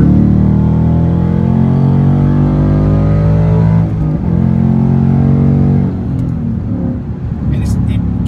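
A 2017 Mustang GT fitted with a Roush exhaust pulls in fourth gear, giving a steady, loud engine drone with harmonic layers throughout, a brief dip near the middle, while someone talks over it.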